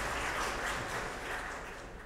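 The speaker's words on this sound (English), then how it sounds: "let's give her a round of applause" Audience applause welcoming a speaker to the stage at the Open Data Forum 2018, a steady broadband clapping wash holding at an even level throughout without spoken words.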